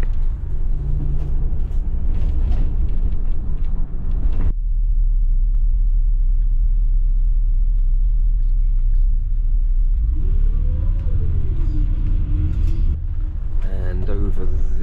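A Shanghai line 911 double-decker bus rumbles through city traffic, its engine a deep steady drone that drops and shifts as it moves off, while someone talks throughout.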